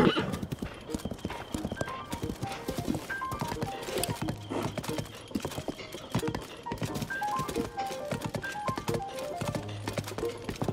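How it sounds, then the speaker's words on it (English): Horse hooves clip-clop in quick rhythmic bursts with a couple of whinnies in Zelda: Tears of the Kingdom, moderately close, with faint game music tones between the hoofbeats. "maybe we could teleport the horse here"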